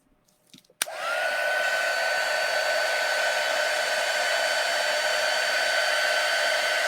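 A hair dryer switches on after a short click and runs at a steady, loud, even whine for several seconds, drying freshly applied chalk paint and watercolor on a stenciled craft piece.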